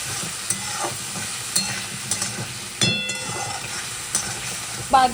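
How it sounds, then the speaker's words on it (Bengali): Spice masala of cumin, chili and turmeric powders frying in a pan, a continuous sizzle with irregular scraping and clanking stir strokes, near and fairly loud with no talking. "এইগুলো দিয়ে এবার মশলাটা কষাবো"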